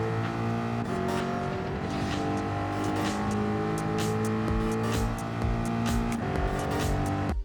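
A Ford Mustang Gr.4 race car in Gran Turismo 7 screams at full throttle, its loud, continuous engine note rising through the gears with a couple of brief shift dips.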